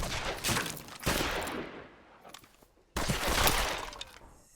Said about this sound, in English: the gunshot here, this gunshot sounds quite distant